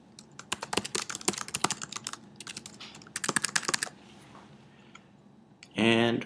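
Quick bursts of key clicks on a computer keyboard, close and crisp, in two flurries separated by pauses, followed by a brief spoken word at the end.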